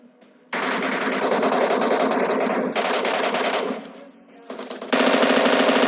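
Loud sustained machine gun bursts from an M249 in a battle royale video game rattle close by in long strings, with brief pauses and a softer gap between volleys.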